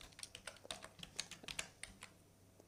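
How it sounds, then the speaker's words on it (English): Fingers typing on a computer keyboard while writing code, a quick cluster of light, close key clicks, fairly quiet. "So let's type alert here and let's type hey."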